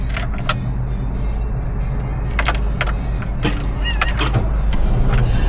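A 1978 VW Riviera camper engine runs with a loud, steady low rumble, while scattered clicks and clunks from the cabin sit on top.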